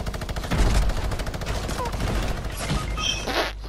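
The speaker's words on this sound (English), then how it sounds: "I hate the minigun, it's so..." A minigun fires in a video game, a rapid continuous rattling burst lasting several seconds at close range, with a faint voice near the end.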